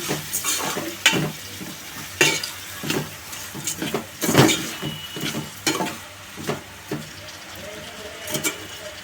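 A masala mixture with rock salt is stirred in a cooking pot, a series of irregular scraping and clattering strokes with a faint sizzle beneath, spread throughout.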